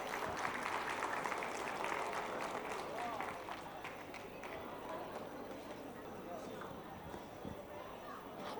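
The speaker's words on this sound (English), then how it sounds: "Give them a huge round of applause." Audience applause after a dance at a school annual day, a dense steady patter of many hands that swells early, then eases into a softer ongoing clatter with crowd murmur mixed in.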